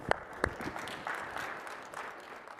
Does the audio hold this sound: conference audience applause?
yes